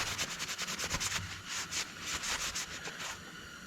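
Sandpaper rubs steadily back and forth on a part during a project teardown, a close, continuous rasping with a quick regular rhythm.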